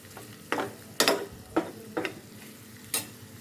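Masala frying in a pan while cooking a Telugu dish of mango dal and chicken fry, with a steady low sizzle broken by about six sharp scraping strokes as the spatula stirs, close and alone.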